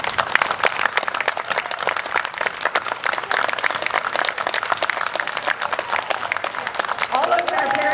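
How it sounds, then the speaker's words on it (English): A graduation audience applauds parents at a Class of 2021 ceremony, sustained dense clapping filling the space steadily from start to end, with some voices and cheering mixed in. "Please stand and allow us to clap for our parents."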